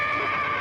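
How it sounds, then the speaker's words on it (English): A brief, high-pitched horse whinny, close and clear, lasting under a second. "I thought I heard a horse"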